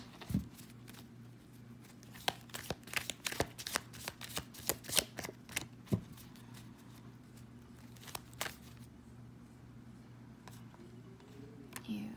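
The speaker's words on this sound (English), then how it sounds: "I'm going to pull 2 for each oracle card." A deck of oracle cards being shuffled close up, with repeated quick riffling bursts and crisp card snaps over about twelve seconds against a low steady hum.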